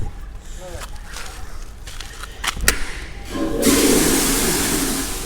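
An automatic self-cleaning outdoor toilet in France, with a few thumps and clicks before a loud rushing flush of water bursts in and keeps going, a voice talking over it.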